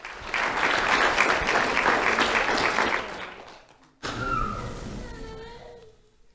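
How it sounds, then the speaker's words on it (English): Audience applause for Chelsea Short at a Lee County Sheriff's Office awards ceremony: a sustained burst of clapping from a room full of people that tapers off, followed by a shorter second round that fades out. "Round of applause for Chelsea Short."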